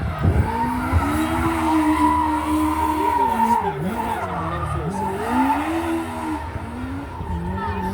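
A stunt car skids and slides hard around a hay-baled arena at a castle stunt show, tyres squealing over a droning engine that rises and dips continuously and loudly throughout.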